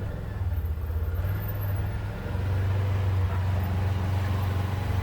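Can-Am Maverick Trail UTV running in high gear after a shift cable replacement, a steady low engine drone that swells louder partway through and holds, with no talk over it.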